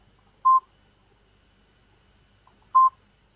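A mobile phone keypad gives two short, identical electronic tones about two seconds apart, clear and alone in a quiet room.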